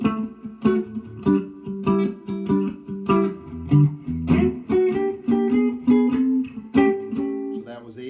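Electric blues guitar plays a turnaround from the five chord over the progression in time, in the style of a slow blues lick, with rhythmic picked notes and double stops repeating steadily, close and moderately loud.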